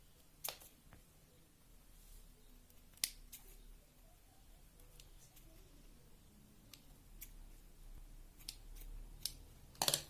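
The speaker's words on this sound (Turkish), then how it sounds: "Şuralarda kararmış kökler var. Onları kesiyorum." Scissors snip blackened roots off an orchid during repotting, a few sharp, isolated clicks spread over a quiet background with soft handling noise.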